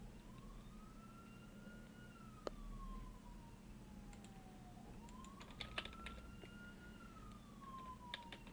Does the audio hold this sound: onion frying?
no